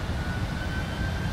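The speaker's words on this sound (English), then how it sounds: "I can hear the airplane spooling up." Boeing 747-400F engines in the Prepar3D flight simulator, a steady dense roar with a thin high whine running through it, alone and fairly loud throughout.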